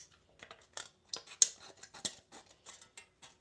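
Scissors snipping through a thin aluminum soda can, a quiet series of crisp, irregular metallic cuts close up, heard alone without speech.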